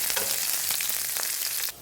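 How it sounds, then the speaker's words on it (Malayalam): Mustard seeds frying in hot oil with garlic, shallots and curry leaves for pulissery, a close continuous sizzle with popping crackles that stops abruptly at the end. "ഞങ്ങൾ പുളിശ്ശേരിക്ക് ഇത്രയും ഇട്ടാണ് ഞങ്ങൾ കടുക് വറുക്കുന്നത്"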